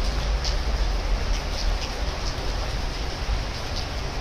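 Steady rain falls outdoors near a festival grounds, a dense, even hiss with occasional faint drips, continuous and fairly loud throughout.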